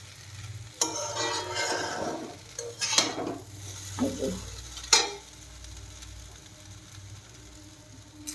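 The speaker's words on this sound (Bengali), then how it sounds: "চাউমিনটাকে কড়াইয়ের ভিতরে দিয়ে দিলাম" Chow mein noodles stir-fried in a kadai, a steady close sizzle broken by several scraping stirs and a few sharp clinks of the spatula against the pan, with no talking.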